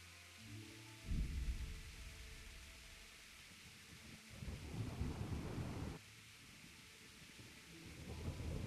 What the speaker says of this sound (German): Also das Gewitter ist auch wieder sehr gut gemacht.